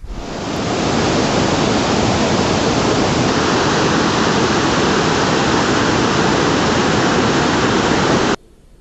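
The Mandakini river at Gourikund on the way to Kedarnath in the Himalayas rushes past in a steady, loud, unbroken roar of fast water. The roar holds constant before cutting off abruptly at the end.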